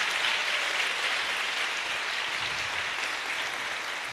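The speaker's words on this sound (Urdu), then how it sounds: "زوردار تالیاں خداوند یسوع مسیح کے لیے" Loud, sustained applause from a church congregation fills the whole stretch at steady volume, a dense wash of clapping with no pauses, cutting off abruptly at the end.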